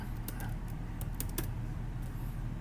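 Typing on a computer keyboard while entering slide text in PowerPoint: a quick close run of light clicky keystrokes over a steady low room hum, no voices.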